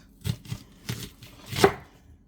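A knife chops onions on a cutting board in four distinct close thuds at an uneven pace, the last one the loudest.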